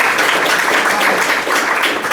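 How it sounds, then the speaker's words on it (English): An audience at a university lecture applauds the event organizer David Belker, a steady, fairly loud wash of many hands clapping throughout with no talk over it. "Can we clap for him?"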